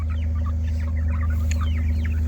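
Around 70 to 75 chickens inside a chicken tractor cluck and chatter in overlapping bursts, close by, over a steady low mechanical hum.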